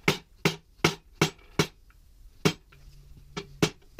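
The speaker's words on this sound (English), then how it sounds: "hammer your workpiece into the slot on your template to the required depth" Sharp metallic hammer blows ring out as sheet metal is hammered into a template slot, about ten strikes in a steady rhythm with a short pause midway, close and clear.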